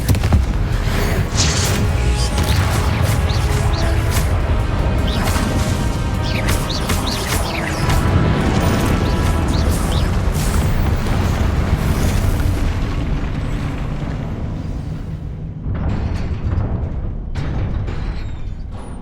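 Confringo fire spell explosions in the video game Hogwarts Legacy, loud booming blasts and crackling bursts layered over continuous game noise, sustained and dense before easing slightly near the end.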